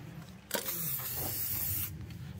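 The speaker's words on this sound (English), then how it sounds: "That's just silicone lubricant spray." Silicone lubricant spray comes from a can in one steady hiss lasting about a second and a half, close and clear against a quiet room during plumbing work.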